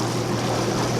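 A fishing boat idling on open water, with a low, steady engine hum and a constant wash of water around the hull at an unchanging level.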